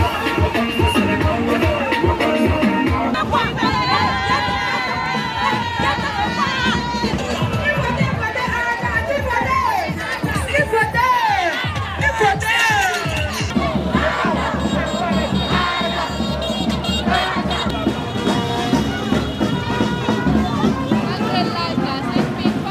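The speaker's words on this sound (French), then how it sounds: "Les chants, les applaudissements et les slogans scandés par les militants créent une atmosphère de fête" Political rally crowd marching through a Koumassi neighbourhood for a legislative election campaign, loud chanting, singing and shouted slogans over constant clapping and babble, with music-like tones and noise running the whole time.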